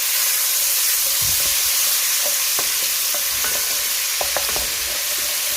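Keema and potatoes fry in a pan with a steady, close sizzle, while a spoon stirs and scrapes through the mix in short bursts. No one speaks.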